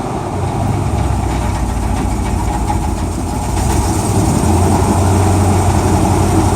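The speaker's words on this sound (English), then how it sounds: "started the El Camino this morning." A Chevrolet El Camino engine idles steadily close by, a loud, even low rumble with a faint rattle, rising slightly in intensity toward the end, with no one speaking.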